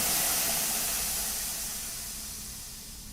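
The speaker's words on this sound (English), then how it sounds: "I gotta do the airbrush drain." An airbrush drain lets off a loud release of air that starts as a strong, close hiss and fades steadily over about three seconds.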